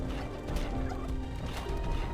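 Super turkeys in Ark Ascended, modded on The Island map, gobbling in rapid bursts over a dense, noisy game background with occasional thuds, repeated several times across the stretch.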